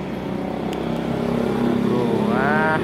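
A motorcycle fitted with a Scorpio engine races at top speed, its engine droning loud and steady up close with a rising whine near the end.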